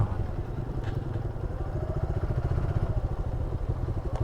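A motorcycle engine runs on a quiet road between Chittagong and Sylhet, a loud, close, throbbing rumble that pulses rapidly and evenly throughout.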